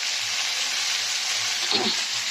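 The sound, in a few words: fish frying in a pan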